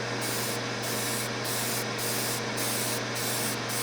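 Steady airbrush spray hisses continuously while paint goes onto a 3D print, with brief regular gaps in the high hiss as the trigger eases off and on, close and even throughout.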